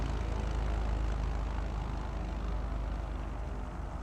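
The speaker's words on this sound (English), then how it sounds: "That airplane sounds so good." Steady, loud engine drone of a propeller airplane in Microsoft Flight Simulator 2024, a continuous low rumble with a broad roar that holds evenly throughout after landing.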